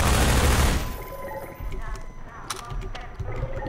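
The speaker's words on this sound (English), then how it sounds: "I'm going to use my SMG, because that's what all of these CPs seem to be carrying" SMG fire in the video game Half-Life 2: sharp, rapid bursts of shots ring out between short pauses over a low background rumble.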